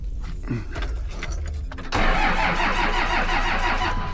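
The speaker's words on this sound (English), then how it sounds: "That thing did not want to crank." Diesel truck with a faulty injection pump cranking hard, starter grinding and chugging unevenly for about two seconds before the engine catches and settles into a loud, rough, steady idle.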